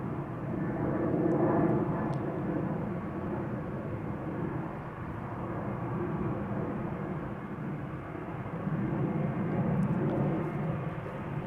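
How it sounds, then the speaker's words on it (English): A KLM Boeing 737-800 passes overhead near Amsterdam Schiphol Airport with a broad, steady engine roar that swells and fades slightly, continuous and fairly distant. "You might hear the airplane to Copenhagen pass over. 737-800 from KLM."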